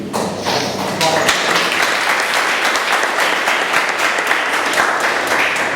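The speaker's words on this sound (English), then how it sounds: "Let's have a very round of applause." An audience at a Toastmasters club meeting applauds, with full, sustained clapping filling the room at close range for several seconds after a brief voice at the start.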